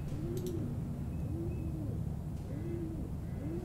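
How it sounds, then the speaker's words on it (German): Pigeon in the horror game Summer of '58 giving four soft, rounded coos at an even pace over a low, muffled background hum. "Taube, komm rein. Ich brauche Gesellschaft."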